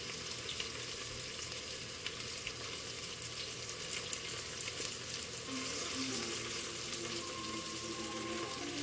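White scallion and ginger fry in sesame oil with a steady, loud sizzle and the scrape of stirring close by.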